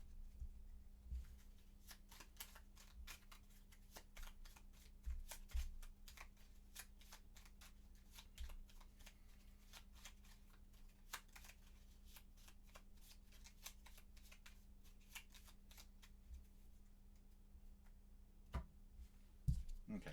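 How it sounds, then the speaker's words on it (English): A deck of Gloomhaven board game cards being shuffled by hand, a long run of quick riffling flicks and soft card slaps, close and fairly quiet over a low steady room hum, with no one talking. "That means this is going to get shuffled as well."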